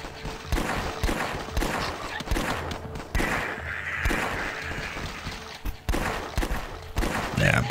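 Repeated gunfire from a weapon in the video game Last Stand 2, irregular bursts of sharp cracks with smashing, breaking noises mixed in, fairly loud and steady for several seconds.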